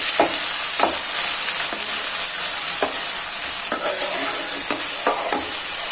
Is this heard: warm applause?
no